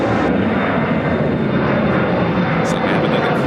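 A Boeing 747 jet airliner roars at the start of runway 10 center at Chicago O'Hare, a loud, steady, broadband engine rush that fills the whole moment with no break.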